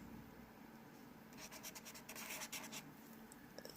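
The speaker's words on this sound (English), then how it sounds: "you have to push down until you see the ink coming down onto the paper or whatever surface you're using it on" A deco paint marker scratches across paper in short strokes, a faint dry scraping that grows busier partway through, close and quiet with no speech.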